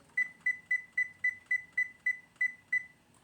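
A kitchen timer gives a regular series of about ten short, clear beeps at an even pace, near and distinct over a quiet kitchen background.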